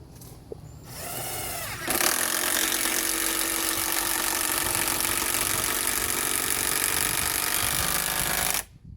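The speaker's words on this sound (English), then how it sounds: "I'll be putting in these extra long lag bolts" A power tool drives an extra-long lag bolt into a deck frame, starting with a brief revving whir and then a loud, sustained grinding drone for about seven seconds before stopping abruptly.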